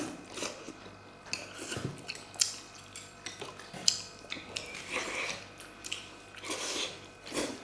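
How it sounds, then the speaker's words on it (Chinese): Close, crunchy chewing and biting of sour-soup beef dumplings at a home table, irregular bites with faint clinks of bowls and utensils, no talk. "我看着这一口接一口的吃"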